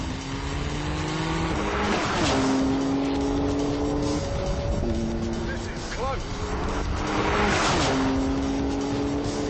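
A Jaguar car accelerating hard at high speed with a broken rev counter, loud rising engine tones climbing through the gears amid tire noise, with excited voices talking over it.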